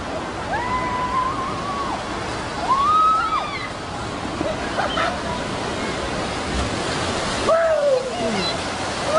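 Water rushes steadily down a Pro Slide 6-lane mat racer water slide at an outdoor water park, a constant broad hiss with brief shouts and voices rising over it.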